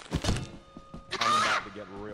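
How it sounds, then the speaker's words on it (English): A yield sign strikes a player's head in a modded multiplayer video game, giving a brief, dull thunk amid overlapping voices of people talking. "That was the sound of me hitting your noggin."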